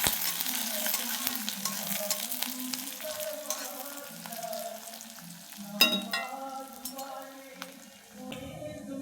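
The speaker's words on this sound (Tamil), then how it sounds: "பச்சை மிளகா 2 போட்டு நல்லா வதக்கி விட்டுடலாம்." Two green chillies sautéing and being stirred in a pan for a white sudumbu fish curry, a steady loud sizzle running throughout with occasional scrapes and clinks of a spoon against the pan.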